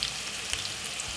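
White onion sizzles and fries in a hot pan, a short, bright, steady crackle with faint stirring, close and alone.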